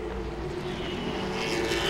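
Late model race cars at Langley Speedway, a steady roaring engine drone that swells slightly as the pack draws nearer, heard from trackside.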